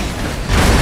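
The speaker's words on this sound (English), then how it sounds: "Oh, train wreck. All right, first train wreck." A model train crashes in the Rolling Line VR railroading game, a loud, dense rumbling impact that swells midway into a heavier roar, continuous and close.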